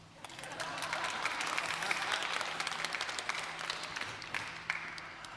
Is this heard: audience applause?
yes